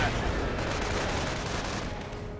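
Gunfire in Company of Heroes, a World War II strategy game, a steady clatter of rapid shots and bursts packed into a loud, unbroken stretch of combat noise.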